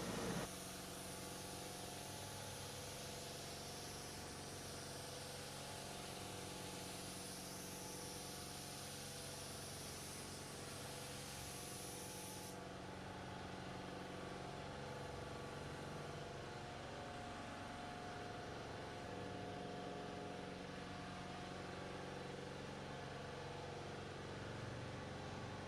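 A spray gun lays clear coat onto a car door panel with a continuous, steady hiss under a low mechanical hum. The hiss thins partway through while the background drone carries on evenly.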